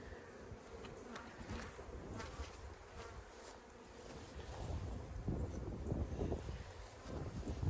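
Honey bees buzz steadily around an open hive box on a farm, a dense close swarm drone with wind rumble underneath, growing slightly louder toward the end.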